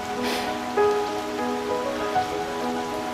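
Heavy rain falls steadily in the Cheviot hills, giving a continuous patter on surfaces with a few louder drips close by.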